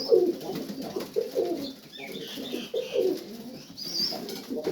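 Highflyer and Serbian pigeons coo in a loft, their low, throaty calls repeating in soft bursts at close range, with a few faint higher chirps mixed in.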